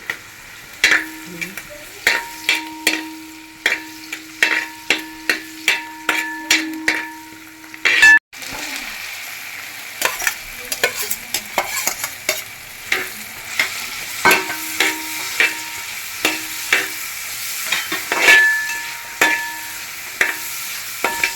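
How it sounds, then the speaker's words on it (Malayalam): Shallots and clams fry in oil in a large Kerala-style batch while a metal spoon stirs and scrapes the pan in rapid rhythmic clinks over a continuous sizzle, with a loud clank midway. "ഇതൊക്കെ ഇങ്ങനെ എണ്ണയിൽ കിടന്നിട്ട് മൊരീനൻ്റെ നല്ല സ്മെല്ല് വരുന്നുണ്ട് കേട്ടോ."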